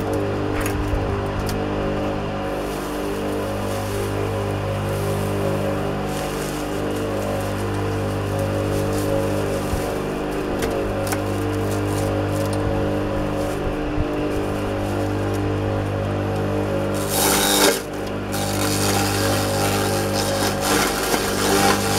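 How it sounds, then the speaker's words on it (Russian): A grain crusher with its sizing screen removed grinds straw into chaff, a steady droning motor hum with a dense rattling, rain-like patter that runs continuously and surges briefly near the end. "Включаем и будем молоть солому."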